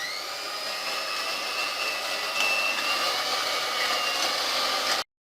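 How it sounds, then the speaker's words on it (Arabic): An electric hand mixer beats eggs with sugar and oil in a steady, loud, high whirring drone that holds for about five seconds, then cuts off abruptly. "وغادي نستعمل الضراب الكهربائي"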